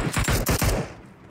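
Rapid machine-gun fire from an M249 in the mobile game PUBG Mobile, a close burst of about seven sharp shots in quick rhythm that stops and fades out.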